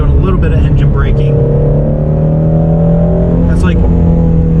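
Ford Mustang Shelby GT350 engine heard from inside while engine braking in third gear at about 4,000 RPM, a loud steady droning rumble that holds constant throughout with a brief voice over it.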